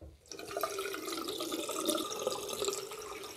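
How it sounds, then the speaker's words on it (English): Water splashes and sloshes close up as it is scooped from a sink onto the face before a wet shave, a run of wet slaps and trickles that start abruptly after a brief quiet moment. "I'm just gonna put some water on my face and we start the shave."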